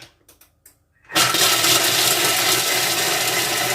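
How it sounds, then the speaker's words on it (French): A kitchen food processor chopping walnuts at speed 5 starts abruptly after a few light clicks and then runs as a loud, steady whirring roar, close up, with no talk. "on fait juste 2 secondes vitesse 5 pour les noix"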